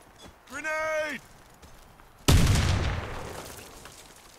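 Grenade blast in the shooter game Warface, a single sharp, loud explosion that rings out and decays slowly, preceded by a short electronic tone and quiet footsteps.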